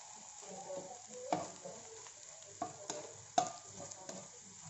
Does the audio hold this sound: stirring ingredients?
yes